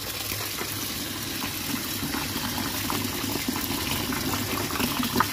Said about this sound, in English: And then parboil so you can get rid of all of those starch